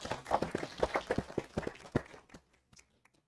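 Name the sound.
clapping at city council meeting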